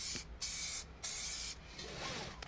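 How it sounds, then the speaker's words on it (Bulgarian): A can of K2 Belso seat belt spray hisses in three close, sharp bursts with short gaps between them, followed by a softer lingering hiss. "Разтръсква се като работа с всеки един спрей. Напръсква се от разстояние 15 на 20 см"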